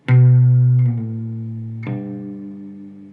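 A single low E guitar note, picked once and played slowly with a slide and a pull-off, sounds alone and close. A second attack comes near the end and rings into a long decay.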